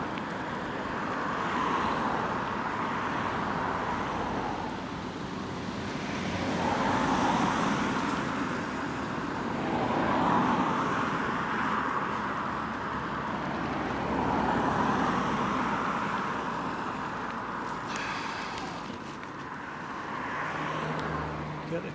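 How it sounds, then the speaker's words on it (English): Steady roar of road traffic streaming past beside a main road during a November bike ride, cars and heavier vehicles swelling and fading continuously and loudly throughout. "Hopefully with this microphone you'll hear me a bit better over the traffic noise"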